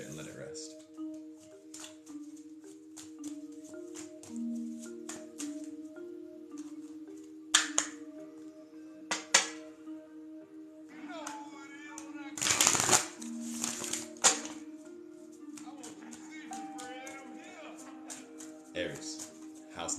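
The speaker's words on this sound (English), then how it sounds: "Let's cut the deck," A tarot deck is cut and shuffled by hand, with several sharp riffling bursts and card snaps over soft background music and quiet talking.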